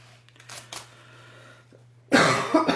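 A sudden burst of loud, close coughing near the end follows a few quieter shuffling and throat sounds over a faint steady hum.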